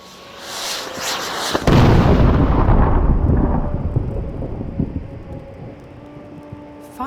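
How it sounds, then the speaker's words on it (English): Fireworks in the video game Dreamfall: The Longest Journey go off as a sudden heavy boom that rolls on and fades slowly, after a softer rising whoosh, with no voices. "Fireworks? Maybe they're celebrating something."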